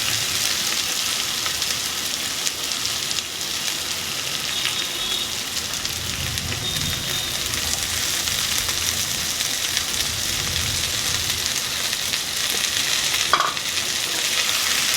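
Fried prawns stirred into well-fried spices in a pan for an alu potol chingri curry give a dense, continuous close sizzle with steady scraping and stirring throughout, no voices.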